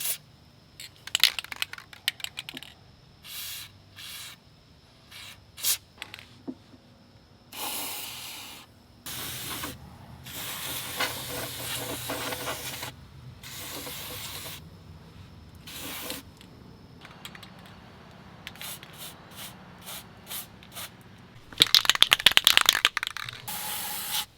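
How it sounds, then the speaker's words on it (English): Rust inhibitor is sprayed from a can onto a truck's rocker and cab corner repair area in a series of short hissing bursts separated by pauses, close to the microphone, ending with a longer, louder blast. "This is a rust inhibitor. So just gonna make sure that that rust doesn't come back."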